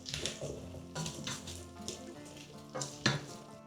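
Onion with smoked and regular paprika frying in a pan as it is stirred, gentle sizzling under a few scraping spoon strokes, quiet and close, with no talking.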